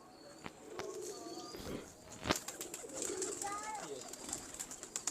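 Pigeons coo softly in a quiet setting, several short cooing calls scattered across a few seconds, with faint chirps and a sharp knock midway, fairly distant and low in level.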